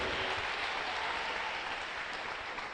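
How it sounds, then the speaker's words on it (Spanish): Church congregation applauding during a bishop's sermon, a dense, even roar of clapping that sounds somewhat distant and muffled, steady throughout without breaks. "Dele un aplauso y nos ponemos de pie."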